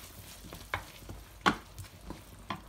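A spoon stirs spaghetti sauce with oregano and mixed herbs in a pan, soft scraping strokes landing in an uneven rhythm with a few sharper clicks against the pan over a light sizzle.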